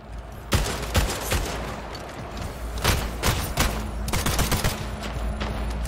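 Rapid bursts of sci-fi gunfire from the Splitgate arena shooter, with dense overlapping shots and thuds in a hill-control match, loud and continuous over low game ambience.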